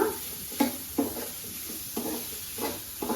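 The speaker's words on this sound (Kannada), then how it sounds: "ಇದನ್ನು ಮೊದಲಿಗೆ ಎಣ್ಣೆ ಕಾದ ತಕ್ಷಣ ಮೊದಲಿಗೆ ಹಾಕಬೇಕಾಗಿದ್ದು ಈರುಳ್ಳಿ ಸ್ವಲ್ಪ ಕೈ ಆಡಿಸ್ತಾ ಇರೋಣ" Chopped onion frying in hot oil in a pan for Konkani-style chicken sukha, stirred now and then, with a steady close sizzle broken by several scraping stirs at irregular intervals.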